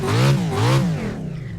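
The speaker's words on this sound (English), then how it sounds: "I like to rev the engine a bit" A dirt truck engine in the iRacing game revs up twice in quick rising sweeps, then settles back to a lower idle, close and moderately loud with no talk.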